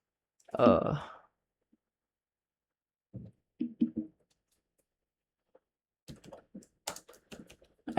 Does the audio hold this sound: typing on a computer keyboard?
yes